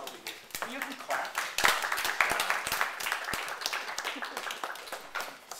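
A crowd claps and applauds at a gathering just before welcoming remarks, a dense, steady patter of many hands lasting several seconds with voices mixed in.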